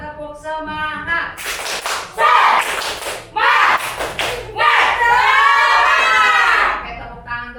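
In a primary school classroom, a sixth-grade class bursts into loud rhythmic clapping together with a chanted cheer, three strong clapping bursts under excited children's voices.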